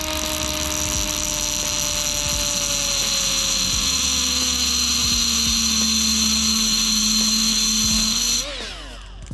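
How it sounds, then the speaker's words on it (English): Milwaukee M12 cordless right angle die grinder grinding metal, a loud continuous high whine that holds steady close by for about eight seconds, then spins down at the end. "if you wanted to grind on some metal here, let's go get something that we can give it a little grind"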